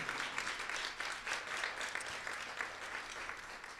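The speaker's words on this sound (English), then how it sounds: "Yes, clap to that" An audience at a Wear Red Day event applauds, a steady, faint, distant patter of clapping that carries on evenly throughout.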